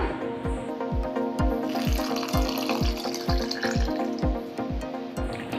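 Rhythmic stirring of rice flour batter with coconut milk for palaadai pottalam, a wet slapping beat of about a dozen even strokes, close up and fairly loud, with no voices.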